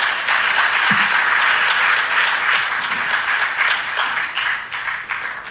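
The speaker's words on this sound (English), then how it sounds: "Let's have a huge round of applause for Paul" Sustained audience applause at a jewelry trade symposium panel, dense even clapping filling the room for several seconds, loud at first and tapering slightly toward the end.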